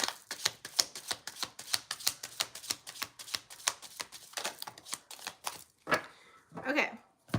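Tarot cards being shuffled by hand, a quick run of crisp riffling flicks in steady rhythm, close and fairly loud, slowing into a few looser rustles and slaps at the end.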